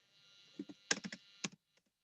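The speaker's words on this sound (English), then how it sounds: "sorry, I'm typing" Typing on a computer keyboard, a short burst of about eight or nine soft key clicks in quick uneven rhythm over a faint hum, then silence.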